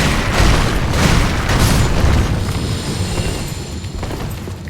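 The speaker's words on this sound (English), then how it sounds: "So beware that these guys can also breathe fire." An enemy in Dark Souls 3 breathes fire in a loud, roaring whoosh of flame with a heavy low rumble that swells and then slowly fades.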